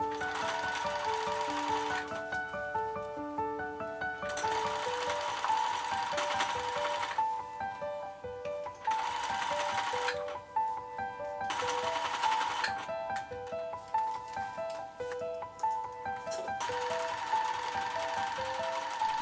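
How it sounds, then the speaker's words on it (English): A sewing machine stitches through bulky denim seams while a pair of old jeans becomes a maxi skirt, running in several bursts of rapid, steady stitching separated by short pauses, close and clear with no talking. "When sewing any bulky seams, you will need a hump jumper to help your machine."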